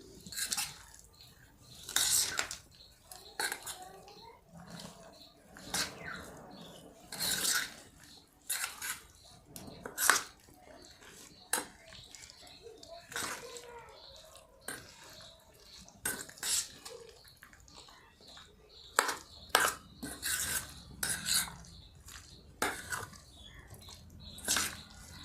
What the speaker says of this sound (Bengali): এবার আমি একে খুব সুন্দর করে মেখে নেব।